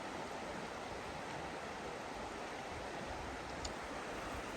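The North Fork Nooksack River rushes past below a campsite, a steady, even roar of flowing water with no pauses and no voices.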